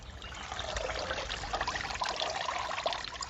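A hanging basket of petunias soaking submerged in water makes a steady, soft hiss of bubbling and trickling, quiet and continuous, with no voices.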